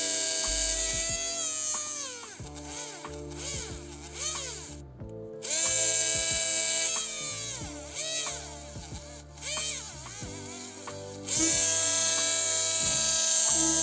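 A BG W-05 electric mini-grinder drills a hole in a small earring-like piece, its high whine rising and falling in repeated bursts with brief pauses, close and fairly loud with no talking.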